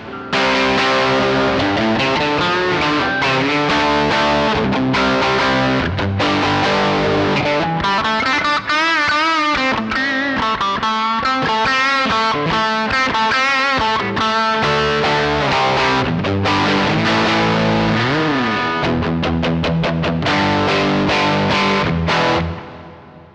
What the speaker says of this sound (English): So I keep the reverb, I added the plexi, took away some of the low end, maybe add some mids and highs.